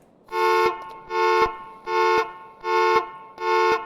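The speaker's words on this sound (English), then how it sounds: "If somebody were to open up the door, it would set off the alarm." A Generic Vehicle Alarm in Stormworks blares in five evenly spaced, loud tonal horn-like blasts, each lasting about half a second with short gaps between them.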